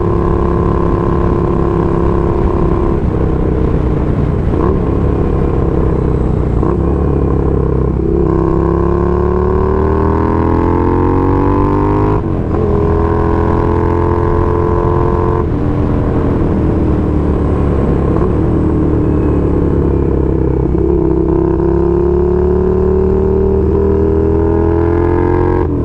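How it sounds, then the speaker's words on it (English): A Honda CX500 motorcycle on a shakedown ride after a build, its engine droning loud and close throughout, rising and falling in pitch through repeated gear changes with steady wind rush. "this is the first ride on a motorcycle I've done this year"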